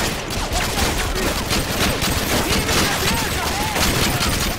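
A continuous barrage of gunfire rattles in a Modern Warfare 2 battle, dense and loud throughout with no pauses, with a voice partly buried in the noise.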